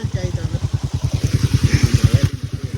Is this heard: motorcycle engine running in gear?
yes